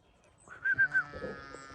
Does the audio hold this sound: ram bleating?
yes